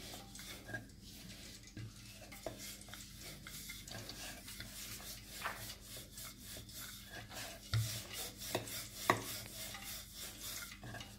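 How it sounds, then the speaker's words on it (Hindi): A rolling pin works methi namak pare dough on a board, producing quiet, repeated rubbing and scraping strokes in a close, soft rhythm. "इसको हम थोड़ा सा आटा लगा लेंगे और बेलन से बेल लेंगे"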